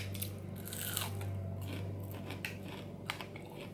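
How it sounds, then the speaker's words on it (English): Crunchy fast food from Sonic being bitten and chewed up close, with a few sharp crisp crunches over a low steady room hum and no talking. "It's still crunchy, thank god."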